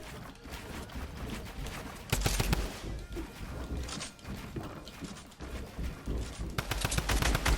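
Fortnite gunfire in bursts, rapid rattling shots and mechanical clicks clustered in several loud volleys over busy game sound, no voices.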